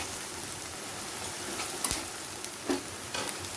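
Peas and carrots fry with onions in oil in a pan for paneer veg biryani, a close continuous sizzle with a few soft stirring knocks and scrapes near the middle, no voices.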